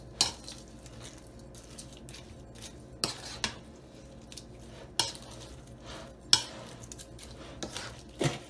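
Oil, yogurt and garlic-ginger paste being mixed in a bowl for dahi dum chicken: a spoon scrapes quietly, broken by several sharp clinks against the dish.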